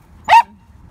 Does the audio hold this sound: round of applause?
no